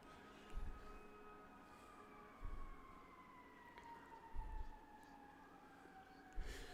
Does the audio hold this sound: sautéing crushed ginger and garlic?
no